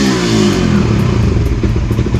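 A Suzuki Raider 150 motorcycle with a newly installed racing ECU revs close up, a loud rising and pulsing engine note with mechanical clatter, no talk.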